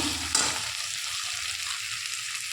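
Curry stirred in a pan with a spatula scraping against the metal under a soft, continuous sizzle, heard close up and without voices.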